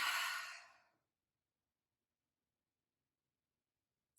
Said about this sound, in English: Just breathing out any stale energy we may have.